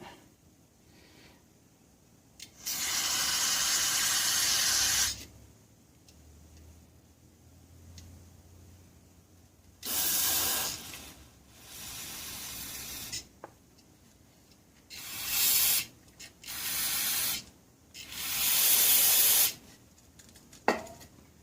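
Aerosol cleaner blasted through the idle circuit ports of a 4000-watt Champion generator's carburetor, several sharp hissing bursts of a few seconds each with pauses and small clicks between them, no talking.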